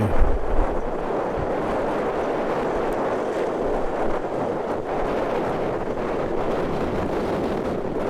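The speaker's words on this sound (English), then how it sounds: "it's windy enough up here" Strong, steady wind roars and buffets against the microphone on the summit of Mt Gibbo for the whole stretch, with heavy low rumbling gusts and no voices.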